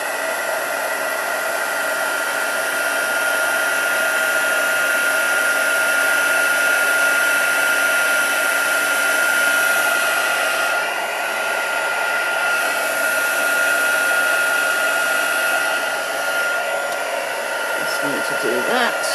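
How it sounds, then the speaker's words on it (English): A heat tool blows steadily on etched foil, giving a loud, continuous whirring hiss with a fixed pitch that barely changes from start to finish. "just keep your heat tool, moving"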